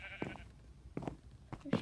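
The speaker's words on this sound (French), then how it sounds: "Pourquoi il y a autant de moutons bruns dans la savane?" Sheep bleat in a Minecraft survival game set in a savanna at night, several short separate calls spread across the moment at moderate distance, with no talk.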